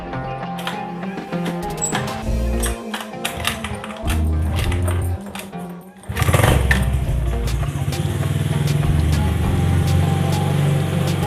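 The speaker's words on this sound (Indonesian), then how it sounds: "kita pakai starter kaki aja ya" A motorcycle is kick-started, with a few mechanical clunks and sputters, then the engine catches and settles into a steady, loud, close idle running without talk.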